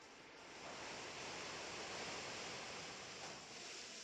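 The Surf attack in Pokémon Ultra Sun & Moon plays as a rushing wash of water that swells in and holds steady, quiet and continuous, with no talking over it.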